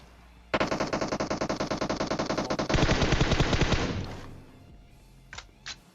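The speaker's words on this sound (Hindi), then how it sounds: "रिकॉइल कंट्रोल कर रहा हूँ, गन ऊपर ही जाए जा रही है।" Automatic gun firing in PUBG Mobile: a long steady rapid burst of shots, loud and close, shifting to a heavier stream before trailing off, then two sharp clicks after a pause.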